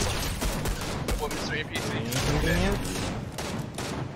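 Steady, loud automatic gunfire in Fortnite as players shoot at an NPC, a fast string of shots running the whole time under excited voices.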